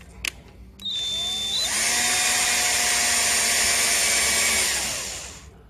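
Power drill boring a test hole: a brief click, then a high motor whine that spins up, holds a loud steady grinding pitch for several seconds and winds down.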